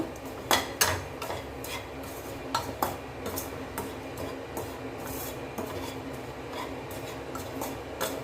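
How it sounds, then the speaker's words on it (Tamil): Ragi flour roasting in a pan on a low flame, stirred and scraped with a spoon: repeated close rasping and clinking strokes that come in irregular bursts over a quiet background. "இப்போது சிம்மில் வச்சுட்டு இந்த மாவை நல்லா வறுத்து கொடுத்துக்கோங்க."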